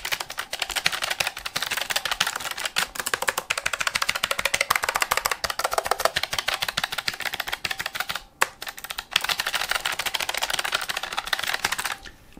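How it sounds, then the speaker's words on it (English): Fast, continuous clacking of an MSI GK50 Low Profile mechanical keyboard, dense keystrokes close up with a brief pause near the end, with slight reverb. "It is quite a noisy keyboard."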